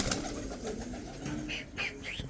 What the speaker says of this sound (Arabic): في حمام ها